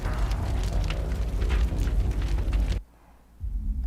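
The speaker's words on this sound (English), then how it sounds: "I went kaboom." A player character blowing up in the video game Mass Effect: Legendary Edition, a sustained loud roaring blast that cuts off abruptly, then a faint low rumble returns.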